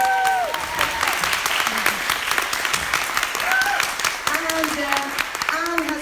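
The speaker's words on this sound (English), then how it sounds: "Give her a big applause!" Audience applause at a book fair panel on women's rights in Gothenburg, steady dense clapping throughout with a few voices calling out over it, close and full.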